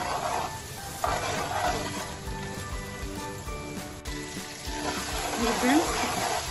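Garlic and ginger sizzle steadily in a hot pan, with occasional stirring scrapes and clinks, close and moderately quiet.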